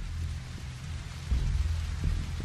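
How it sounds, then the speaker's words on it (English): Steady rain pours in The Walking Dead: 400 Days game scene, a dense continuous wash of falling water with low rumbling undertones, unbroken and close throughout. "Oh, the rain. Won't let up today."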